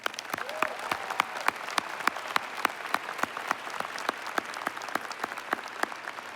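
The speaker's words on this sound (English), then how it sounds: "Join me in giving a round of applause to the Investiture Planning Committee" An audience at a university presidential investiture ceremony claps steadily and loudly, sharp individual claps ringing out in a dense, sustained round of applause.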